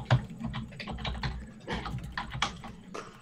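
Fingers type on a computer keyboard in quick, irregular bursts of clicking keystrokes, close and steady across the whole stretch with no talking.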